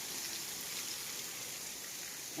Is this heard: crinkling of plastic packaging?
no